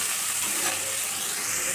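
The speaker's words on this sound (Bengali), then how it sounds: "দিয়ে এবার খুব ভালো করে নেড়ে চেড়ে পেঁয়াজ আর মশলাটা ভেজে নেব আমি আগে।" Onion and spices fry in a pan with kalo jeere, ginger and garlic, giving a steady, close hiss and sizzle that holds evenly without a break, with no voices.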